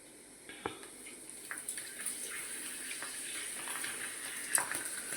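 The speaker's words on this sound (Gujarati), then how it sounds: "જો આ રીતે ભૂંગળા તળી લેવાના।" Potato bhungla fryums frying in hot oil, a steady soft sizzle broken by scattered crackles and pops that grow a little busier, fairly faint and with no voices.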